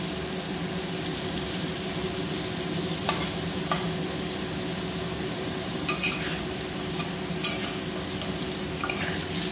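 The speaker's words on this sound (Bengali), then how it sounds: "তো তোমরা এইভাবে আলুটা ভেজে নেবে" Steady frying sizzle from potatoes in a pan of hot oil, with a few light clinks of stirring scattered throughout and no talking.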